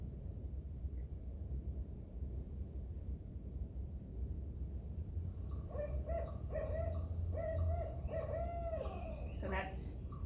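A recorded owl call plays from about six seconds in, a string of repeated hooting notes in an even rhythm over steady background noise. It sounds moderately close and clear.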